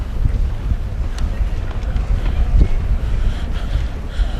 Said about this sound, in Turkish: Rüzgar var. Rüzgar ne kadar belli oluyor bilmiyorum kamerada.